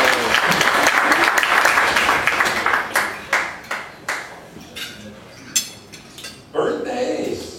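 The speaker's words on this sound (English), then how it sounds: "a round of applause for our visiting Rotarian" A room full of Rotary club members applauds a visiting Rotarian in a sustained round of clapping that thins into a few scattered claps, with clinking dishes and cutlery and some talk near the end.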